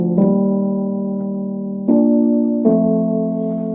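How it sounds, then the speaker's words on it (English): Casio keyboard playing an electric piano tone, with three sustained chords struck one after another, each ringing out warmly and slowly decaying, played alone without voices. "The first electric piano tone is one of the best ones."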